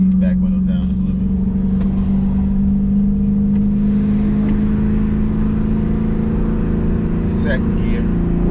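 A Dodge 392 V8 car accelerates hard in second gear, a loud, steady engine drone heard from inside the cabin that rises slowly in pitch throughout, with someone talking over it.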